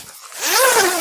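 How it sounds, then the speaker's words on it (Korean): A single close, clear zip draws the zipper along an LNT Overland L2 annex room to fasten it to the tent divider. It rises from a soft start into a steady rasp, with no voices. "다시 디바이더와 이제 어넥스를 연결하는 지퍼로 체결을 해주고요."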